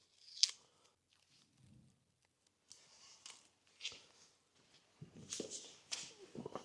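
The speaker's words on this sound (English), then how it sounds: "then we'll just pick one and then peel it off, peel the tape off" Masking tape peeled off a part during a Willys MB jeep tub accessories build, heard as a few short dry ripping and crackling bursts spread across the moment, close and moderately loud with brief quiet gaps between them.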